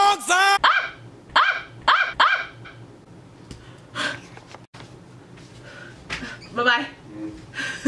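A dog barks several times in quick, sharp bursts up close, then a voice talks briefly between further barks and snorts.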